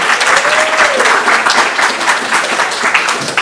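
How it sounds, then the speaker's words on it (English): An audience at a women's empowerment panel event claps steadily for several seconds, dense, loud applause from a large crowd filling the whole clip. "Give yourselves a round of applause for being here with us."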